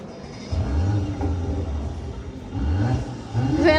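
A Mercedes-Benz car engine revs in a few rising bursts, deep throaty rumble climbing and falling, close and loud, with a sharper high rev at the end.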